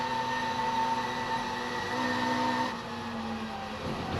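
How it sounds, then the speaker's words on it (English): A classic racing car with a Lotus twin cam engine revs hard while four-wheel drifting at the Silverstone Classic, its steady, loud engine drone shifting pitch a few times with no voices over it. "Just hear the car working, four-wheel drifting, tail wagging as the car sits there revving its Lotus twin cam engine."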